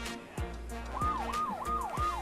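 A toy ride-on bike at a toy fair sounds a wailing electronic siren that sweeps up and down in repeated cycles, loud and close, over a steady low hum and faint background chatter.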